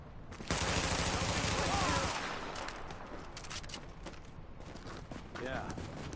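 Sustained automatic gunfire in The Division, a dense loud burst for the first couple of seconds, then continuing scattered shots and combat noise with game voices.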